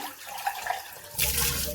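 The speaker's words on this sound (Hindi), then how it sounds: "एक ताजा पानी चलाया" Fresh water suddenly gushes from a tap at home after a quiet moment, a loud close rush that runs on steadily for the last half second.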